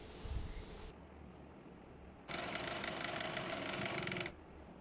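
Sewing machine stitching palazzo salwar fabric, a steady close whirring run of about two seconds after a quieter stretch of low hum and faint handling noise.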